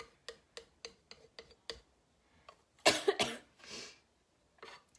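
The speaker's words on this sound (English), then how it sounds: "I can't get rid of this annoying little cough." A person with allergies gives a short burst of coughs, close and fairly soft, after a series of light tapping knocks.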